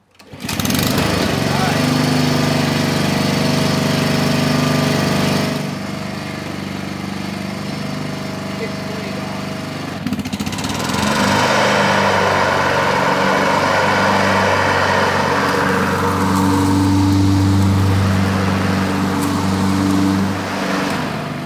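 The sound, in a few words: Honda push lawn mower engine at full throttle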